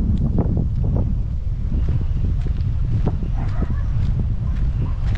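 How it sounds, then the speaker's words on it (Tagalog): Strong wind blowing outdoors where trees sway constantly, a steady low roar of gusts buffeting the microphone for the whole stretch, with faint rustling on top. "Lakas ng hangin."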